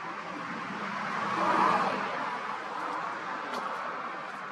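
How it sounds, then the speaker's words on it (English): A car driving past outdoors, a broad whooshing roar that swells to a peak and slowly fades, steady at moderate distance with no voices over it. "Why does everybody drive by when it's filming?"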